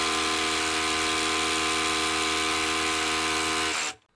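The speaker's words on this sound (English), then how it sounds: "I think this rotary hammer would be great for handymen." A Ridgid Octane cordless rotary hammer drilling into concrete: a loud, steady, close buzzing hammer-drill whine held for nearly four seconds before stopping abruptly.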